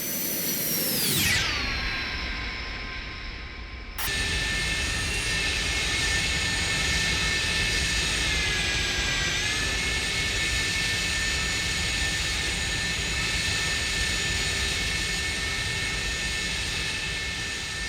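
Airbus A300 jet engines in a flight simulator cruise flyby: a loud whining roar sweeps down in pitch as it passes, cuts out briefly, then resumes as a steady, even engine drone with a high tonal whine.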